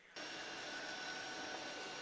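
A police helicopter's engine and rotor during a motorcycle pursuit, a faint steady turbine whine and rushing roar that starts abruptly and holds constant.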